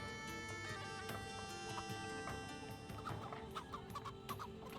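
Chickens in the medieval city-building game Patron cluck in quick, steady, overlapping bursts over soft ambient game sound, with no talk.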